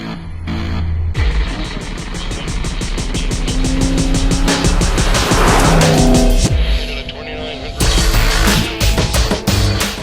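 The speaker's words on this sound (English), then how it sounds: "One of the best ways to get to know what this M3 Frozen is like from a performance perspective is to take it onto a racetrack" A BMW M3 Frozen Edition is driven hard on a racetrack, its engine roaring loudly through rising revs and quick gear changes, with tires squealing through corners and a brief lift before it pulls hard again.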